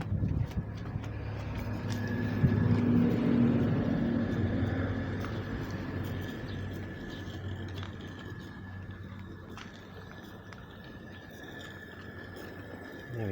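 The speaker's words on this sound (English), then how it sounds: "Testing this loco with a bit of a load." Coal-fired Quarry Hunslet garden railway locomotive hauling a load of trucks, a steady low mechanical hum with light rhythmic clatter, moderately close and fading slightly, no talk.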